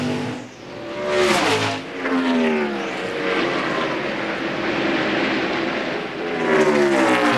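Stock cars racing at Homestead-Miami Speedway roar past in loud, sweeping waves, engines rising and falling in pitch as each car passes close by, with no talk over the sound.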